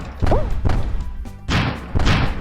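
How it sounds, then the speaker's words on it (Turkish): Bombs exploding in the Stumble Guys game, a series of four or five heavy thuds and bursts in quick succession, close and loud with game noise and no talk. "Patlıyor mu bomba? Patlıyor."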